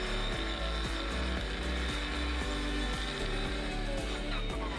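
A power saw cuts through a flat roof during firefighter ventilation training, a steady loud grinding drone running throughout with rhythmic pulsing as the blade works.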